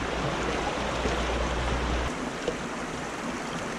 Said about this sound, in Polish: Górski potok.